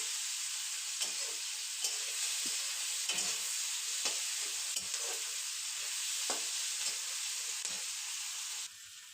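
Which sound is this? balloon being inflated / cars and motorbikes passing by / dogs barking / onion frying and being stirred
onion frying and being stirred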